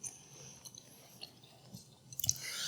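Chewing a crunchy potato chip cookie, soft close crunching and mouth sounds that grow into a cluster of sharper crunches near the end, faint and without talk.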